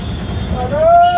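A train rumbles nearby at a railway station where construction work is under way, with a rising metallic wheel squeal, steady and loud.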